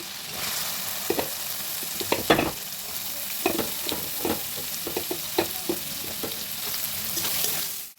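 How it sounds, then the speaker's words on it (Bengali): Carrots stir-frying in a pan with ginger-garlic-chilli paste, a dense continuous sizzle broken by repeated clattering strokes of the spatula, loudest around the second and a half, steady and close with no voices. "এবার আমি যে সবজিগুলো নিয়েছি সেগুলো এক এক করে অ্যাড করব। প্রথমে আমি গাজরটা অ্যাড করছি।"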